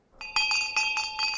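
A bell rung to call a meal break during a morning gathering, clear metallic strikes repeating about four times in quick succession, each ringing on with bright overtones, close and fairly loud with no talk.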